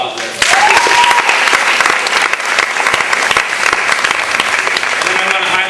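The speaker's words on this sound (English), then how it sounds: "Let's give them a warm round of applause there." A crowd at a high school dramatic arts festival gives loud, dense applause that starts sharply and continues evenly. The clapping sounds full and close throughout.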